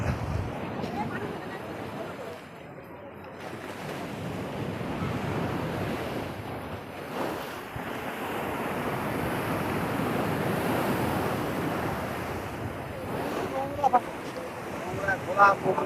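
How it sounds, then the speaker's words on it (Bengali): Arabian Sea surf in Mumbai rolls and breaks continuously with heavy wind buffeting the microphone, and voices murmur faintly underneath. "আরব সাগরের ঢেউটা দেখো খালি"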